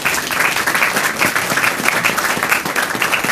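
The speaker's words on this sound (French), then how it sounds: "je voudrais qu'on les applaudisse, s'il vous plaît." A crowd at a Ligne L rail event for the new Francilien train applauds the rail maintenance workers, steady dense clapping throughout at a fairly loud, close level.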